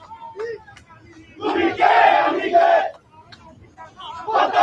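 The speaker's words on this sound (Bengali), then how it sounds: "এই যে আপনারা দেখেন আওয়ামী লীগের আজকে মিছিল দেখেন" An Awami League political procession, where a crowd chants slogans in loud, rhythmic bursts, with a strong collective shout in the middle and quieter voices and calls in between.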